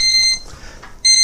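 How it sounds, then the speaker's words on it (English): A kitchen gadget sounds a rapid electronic alarm-style beep, bright and high-pitched. A burst of beeping opens the clip, goes quiet briefly, then resumes loudly at the end. "that beeping that you hear"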